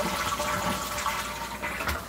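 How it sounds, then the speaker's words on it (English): A toilet drains with a rushing, gurgling flow of water and a few deeper burping glugs as air escapes, heard close up in a small bathroom. "And hear the toilet burp."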